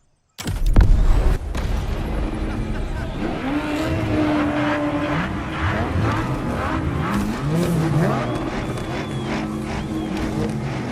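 Race cars roaring through a race in The Crew Motorfest, engines revving and shifting continuously with tire skids and squeals, starting with a loud burst and staying dense and close throughout.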